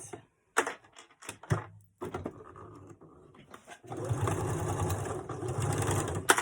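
A sewing machine stitches an invisible zipper into the back of a garment, with a few scattered mechanical taps and pauses first, then a steady, close whirring run of the needle in the second half.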